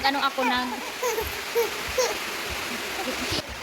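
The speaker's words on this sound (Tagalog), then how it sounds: "Malakas ang ulan." Heavy rain pours in a continuous broadband hiss while a voice talks over it in short phrases.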